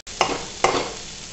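Masala for a paneer gravy being stirred and roasted in a pan, two sharp scraping strokes a moment apart over a steady close sizzle, no voices.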